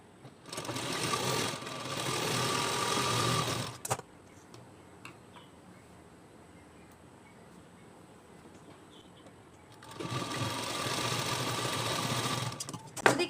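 A sewing machine stitching blouse fabric runs in two steady whirring bursts at the start and end, separated by a long quiet stretch with faint ticking.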